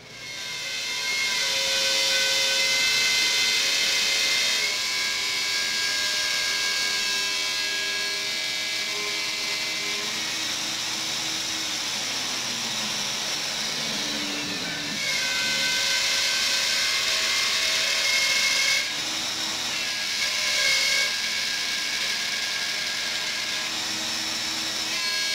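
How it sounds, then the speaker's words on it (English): A wood router cuts a cavity into a laminated workbench top, whining loud and continuous with shifts in pitch as the bit bites into the wood, broken by a couple of short changes in load. "So from here, I'm just going to go ahead and start routing."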